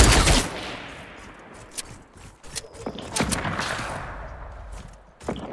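Rapid gunfire from no-scope sniper shots in Fortnite, a loud opening burst followed by scattered, irregular cracks and clatter over several seconds, with no talking.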